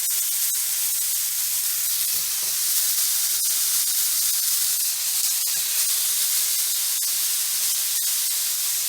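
Beef patties for a chopped cheese sandwich hiss and sizzle steadily in a hot pan, a bright continuous frying noise with small crackling pops, close and without any talk.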